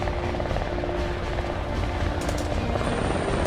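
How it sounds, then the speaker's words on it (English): A small unarmed Marine helicopter flies through heavy ground fire into enemy territory, its rotor and engine a loud, continuous, dense roar with faint crackles mixed in. "Captain Frank Wilson from Jerome, Arizona, flew his small unarmed helicopter through heavy ground fire into enemy territory to rescue 3 downed airmen."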